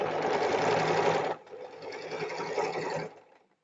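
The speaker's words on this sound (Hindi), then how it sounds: "नीचे ध्यान रखिए कोई दूसरा सिलाई में तो कपड़ा नहीं आ रहा है" Sewing machine stitching piping onto a belt blouse, a steady close whirring run that drops to a softer stretch partway, then stops.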